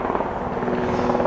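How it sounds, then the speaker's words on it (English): A helicopter drones steadily overhead during an outdoor dirt-time outing, its rotor chop a continuous, fairly loud throb with no talk. "helicopter's coming over again"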